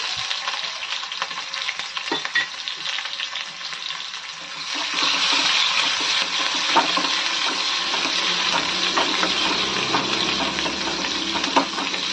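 Sliced onions drop into garlic already frying in hot oil in a pan for Telugu leafy-greens dal, the sizzle swelling louder partway and then holding as a steady, close, bright crackle with faint stirring.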